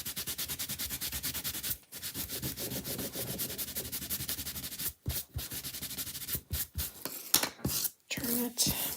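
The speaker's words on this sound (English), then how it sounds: "let's rub this one a little bit longer" Wax is rubbed into wood by hand for a shiny finish, a continuous close buffing friction with quick regular strokes, broken by a few short pauses and handling noises near the end.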